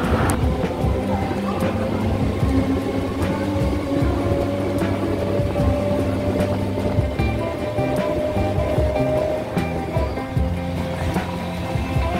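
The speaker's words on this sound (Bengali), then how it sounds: "লিলুয়া থেকে ট্রেন নির্ধারিত সময়ে ছেড়ে দিয়েছে" Local train running from Liluah towards Belur, a continuous loud rumble of wheels and carriage with low droning hum and faint rhythmic clacks throughout.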